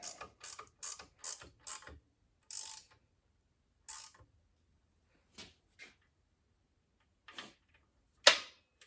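Bolts being snugged by hand tool during reassembly of a Curtis air compressor, heard as a series of short metallic clicks and ratcheting bursts, close and fairly quiet, with gaps between and one sharper clank near the end.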